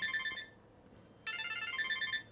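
A Samsung Galaxy SmartTag plays a short electronic ringtone, a repeating chiming pattern at high volume, pauses briefly, then resumes at the same steady volume.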